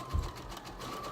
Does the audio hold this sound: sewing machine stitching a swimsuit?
yes